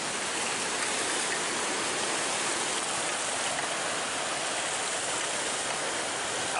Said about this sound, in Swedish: där kommer det jättemycket vatten